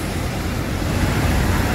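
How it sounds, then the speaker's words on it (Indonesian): Dense road traffic rumbles near a bus station in Palembang, a dense unbroken roar of engines and tyres, loud and fairly close, with no clear single vehicle standing out. "Oh iya, kita lihat lalu lintas"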